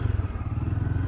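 A motorcycle idling and rolling slowly in first gear through a U-turn, its low engine putter close and steady with a rapid pulsing throb, no voices over it.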